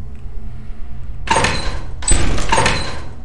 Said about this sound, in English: Door sound.